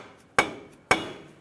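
Two sharp hammer taps, about half a second apart, drive an axle shaft into the rear axle housing of a 2006-2010 Hummer H3 during a seal replacement; close, metallic strikes with quick decay and no talking.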